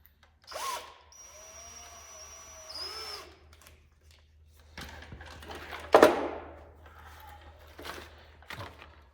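A power drill with a Harbor Freight bit whines in a few short bursts with pauses between them, close by, while installing a rear spoiler on a 1976 Trans Am, along with some clunks and handling noises.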